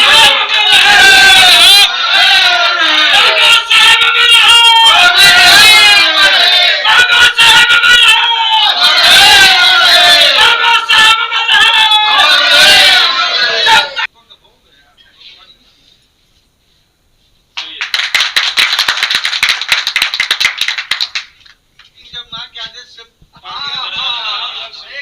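A crowd at an award ceremony claps and cheers loudly for about fourteen seconds. After a short pause, bursts of applause return, with some voices mixed in.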